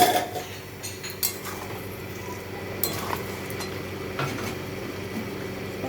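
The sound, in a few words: lid being lifted off a cooking pot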